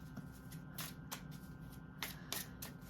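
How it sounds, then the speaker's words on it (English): A deck of tarot cards is shuffled by hand nearby, making several brisk riffling bursts over a steady low room hum. "Now I'm shuffling the Starry Beginnings cards, get a clarifying card."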